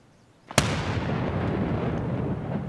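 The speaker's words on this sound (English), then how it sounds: "Good grenade." A video-game grenade goes off in a single sharp, loud blast followed by a long rumbling roar that slowly fades, close by and with no talk over it.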